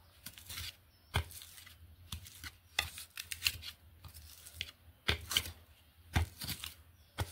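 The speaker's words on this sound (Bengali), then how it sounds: "এই জবা ফুলের কলিগুলোকে আমি একদম এইরকম একটি শিলের সাহায্যে এইভাবে" Hibiscus buds are crushed into a paste on a stone grinding slab, with irregular, close, gritty scraping and crunching strokes in short bursts and brief pauses between them.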